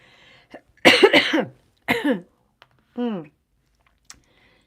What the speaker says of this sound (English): I was about to start coughing.